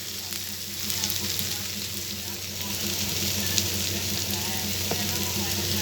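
Pumpkin and potato pieces fry in a pan, giving a continuous close sizzle with soft crackles that swell a little toward the end.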